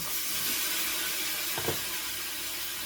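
Carrots hiss steadily in a hot skillet, a constant airy sizzle with a couple of faint low knocks near the end.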